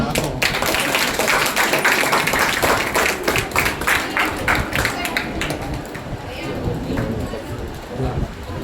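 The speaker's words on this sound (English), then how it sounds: "Thanks sir and give big round of applause." Audience at a celebration clapping in a dense, sustained burst of applause, loud and close at first, then gradually thinning and fading toward the end, with some voices underneath.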